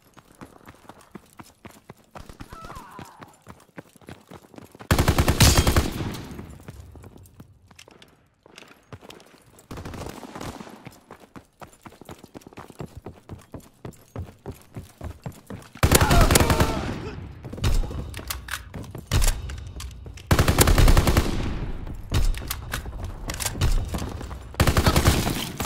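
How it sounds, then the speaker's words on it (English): Heavy gunfire in a Call of Duty World War II game: loud bursts of rapid automatic fire and fusillades come in several waves among quieter stretches, with shouted voices and game announcements mixed in. "Keep firing!"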